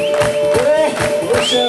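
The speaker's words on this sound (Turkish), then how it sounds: "Şöyle bir kendinizi alkışlar mısınız? Kuvvetli ama ses gelsin." A picnic crowd in front of an outdoor stage claps and cheers for themselves, a loud sustained wash of applause mixed with music and voices.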